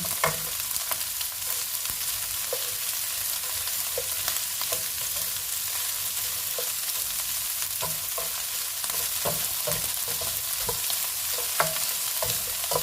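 Prawns cooking in garlic butter with olive oil in a pan, a loud, steady bright sizzle broken by frequent small pops and crackles.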